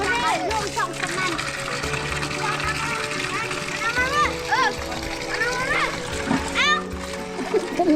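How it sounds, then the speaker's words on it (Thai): Children splash and play in cold bathing water at a rural school in Laos, with close, busy sloshing and gushing under lively chatter and shouts from kids and adults. "โอ้แอนน่า อาบน้ำเย็นบ่"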